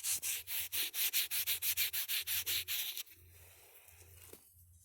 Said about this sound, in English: Give it the old pants rub here.